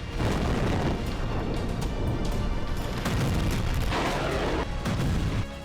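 Dense, continuous booming blasts and heavy artillery fire from the Russia-Ukraine war, loud and sustained throughout with rolling low rumble and overlapping bursts.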